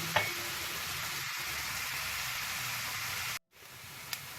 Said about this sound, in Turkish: Soğanımız kavrulmaya devam ederken tereyağımızı da ekliyorum.